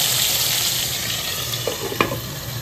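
Prawns and onions frying in a pan, a loud, dense, continuous sizzle close up, with a couple of faint clinks near the end.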